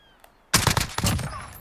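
VKS rifle in Call of Duty Modern Warfare firing a loud burst of several rapid, sharp gunshots that ring out after a quiet start, ending in a reverberant tail.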